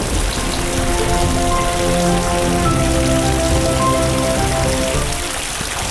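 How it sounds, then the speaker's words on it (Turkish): Steady, heavy rain patters across a surface without pause, a dense continuous hiss, with faint tonal sounds drifting underneath. "Yağmur başlıyor."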